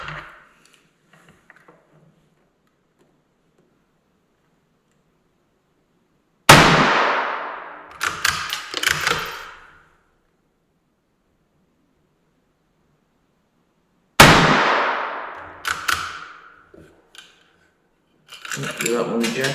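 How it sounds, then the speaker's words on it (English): Two loud, sharp gunshots from a rifle fired at a 25-yard target, several seconds apart, each with a ringing tail and clattering handling noises afterward, amid long quiet stretches. "I'm going to take 3 shots and just confirm that this thing is still sighted in"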